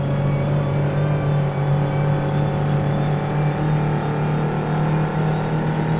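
A race car engine drones steadily at a constant pitch on a VR racing game version of the 1967 Nordschleife, with no clear braking change. The sound is loud and continuous, with no talking.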